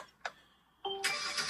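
A 2019 Mercedes C43 AMG is started up. There is a quiet click, then the starter cranks and the engine catches into a bright, steady idle. The sound is faint and very short.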